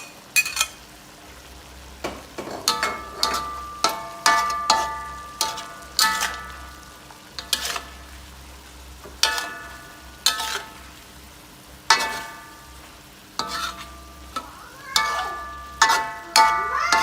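Eel is stir-fried with bell peppers in a pan: a low sizzle runs under repeated metallic scrapes and clanks of a spatula against the pan, striking every second or so.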